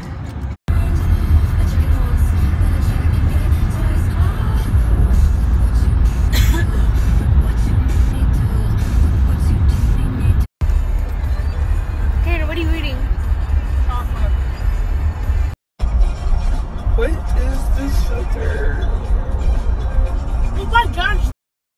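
Steady low engine rumble and road noise fill the cabin of a car riding through traffic on the way into Chicago, with people talking inside throughout.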